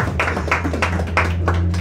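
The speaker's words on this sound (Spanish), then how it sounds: "un aplauso para mi querido Rubén" A brief burst of clapping at a racing team press conference, a small group applauding close by with uneven hand claps over a low steady hum.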